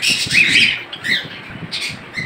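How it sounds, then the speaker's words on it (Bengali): Silver and lutino budgerigars in a bird farm give loud, close squawks and bright chirps in quick irregular bursts with short pauses. "এখানে রয়েছে সিলভার কালারের বাজরিগা এবং লুটিনো বাজরিগা"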